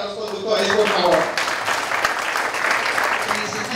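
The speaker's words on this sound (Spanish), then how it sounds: "un aplauso para los conductores, por favor" Applause from a seated audience for the drivers at a Spanish-language motivational talk, a dense, steady patter of many hands, close and loud throughout, with a voice briefly carrying over the start.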